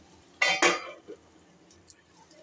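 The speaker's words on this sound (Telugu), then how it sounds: "5 నిమిషాలు మూత పెడదాం" A metal lid set onto a frying pan of okra fry, giving two quick loud clatters close by, then a faint clink and stillness.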